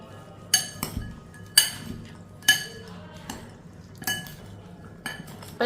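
Metal spoon mixing a sprouts salad in a bowl, with sharp clinks against the bowl every second or so over a soft scraping stir, close by.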